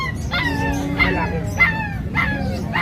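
Three-month-old Labrador puppies bark and whimper in repeated yelping bursts close by, about four high cries over a steady low background hum, with a brief voice in between.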